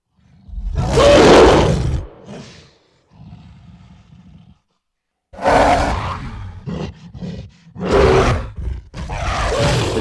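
A bull and a stag fight with deep, violent roars and bellowing screams in long, loud bursts. The cries break off into brief pauses and come back with several harsh, strained calls close by.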